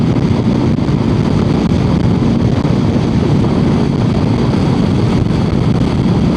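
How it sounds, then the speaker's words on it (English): Strong wind roars steadily across the microphone outdoors on a rural road away from the city, a continuous loud rumbling buffet with no pauses and no voices. "Ooh, it's windy now."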